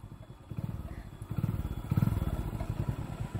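Motorcycle engine running steadily nearby in a village setting, with a rumbling low throb that swells and pulses over a few seconds amid light clatter.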